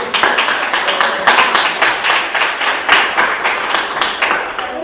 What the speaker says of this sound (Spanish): ¿Sabes por qué aplaudimos?